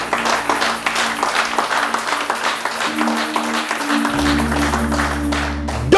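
A church congregation breaks into sustained applause, many hands clapping in a dense, steady roar that fills the room before a low organ-like tone swells in near the end.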